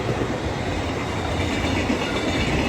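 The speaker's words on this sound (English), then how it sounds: "The dark train, night train." A night train passes close by in Japan, a loud, steady roar of wheels and rail noise that fills the whole stretch without a break.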